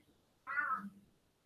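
A single close meow from a house cat, rising and falling over about half a second, heard indoors against a quiet background with faint appliance hum.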